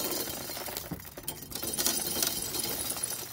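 Dry popcorn kernels pour from an old, roughly century-old shelling machine into a barrel, some scattering onto the floor, making a steady close rattling clatter with brief brighter clinks throughout.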